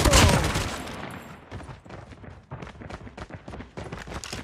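Gunfire in the Call of Duty Mobile video game, with an opening heavy volley followed by rapid bursts of shots and thuds continuing at a steady pace.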